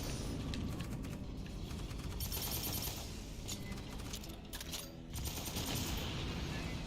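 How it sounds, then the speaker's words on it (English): Rapid automatic gunfire from the Aliens: Fireteam Elite video game as players shoot at alien swarms, loud and nearly continuous bursts with brief pauses, dense and close throughout. "I see targets, I need to shoot them."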